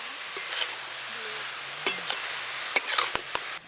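Tomato and spices stirred together with cabbage and potato in a pan, a quiet close sizzle broken by sharp scraping clicks of a spoon against the pan, no speech.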